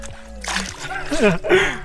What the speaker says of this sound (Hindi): मैं पहला बंदा जिसने ये लेक के पानी से मुंह धोया है